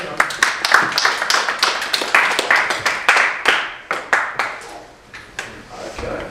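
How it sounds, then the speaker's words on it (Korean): A small classroom group gives a brief, scattered round of applause for their course administrator, a few hands clapping unevenly at close range over roughly six seconds rather than a full dense ovation. "let's give her a round of applause as our course administrator"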